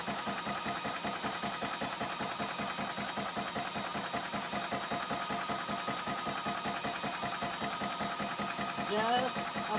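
A portable PCP air compressor from Orcair pumps steadily with a fast, even mechanical chugging that holds at a constant level throughout, like a rapid engine knock with no pauses.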